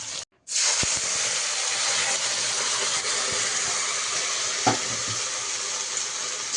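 Beans and potatoes with bay leaf and black cumin frying in a pan, a steady broad sizzle that starts after a brief silent gap and runs continuously, close and loud, with a few soft stirring knocks.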